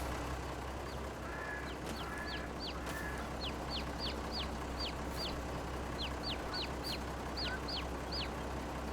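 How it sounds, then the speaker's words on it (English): Chickens in the farming game Farming Simulator 22 cluck and chirp in a quick repeating series of short calls, fairly faint over a constant low background hum. "Oh, there's chickens here."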